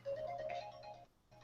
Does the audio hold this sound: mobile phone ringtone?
yes